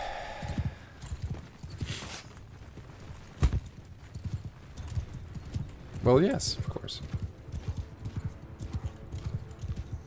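Horses gallop in a video game battle, a rapid clip-clop of hooves running steadily through the scene under frequent talk and game noise, with a brief neigh partway through.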